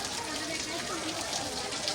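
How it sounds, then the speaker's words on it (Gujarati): Rain falls steadily outdoors, a soft, even patter and hiss that stays constant throughout the short stretch. "હજી ચાલુ જ છે. જો વરસાદ"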